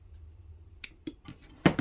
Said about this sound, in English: you're going to cut the nipple off of the